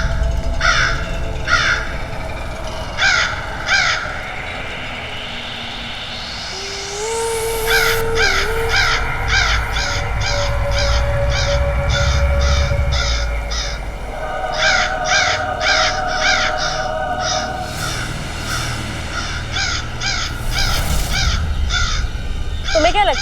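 A black crow caws over and over in quick bursts of two to four harsh calls, loud and close, with a rising whoosh and a low rumbling background between the calls.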